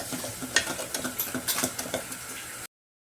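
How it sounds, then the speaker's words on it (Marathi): A spoon stirs turmeric and asafoetida through a sizzling pan for misal, making quick scraping, clattering strokes over a soft fry, up close, before the sound cuts off abruptly. "अर्धा चमचा हिंग घालायचं आहे थोडासा पूर्ण हलवून घ्यायचं"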